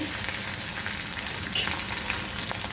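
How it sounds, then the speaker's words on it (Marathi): Onion sautés in a pan until golden, a soft, continuous frying hiss at low volume with faint stirring ticks and no voices. "मी छान कांदा परतून घेते याचा कच्चेपणा जातपर्यंत"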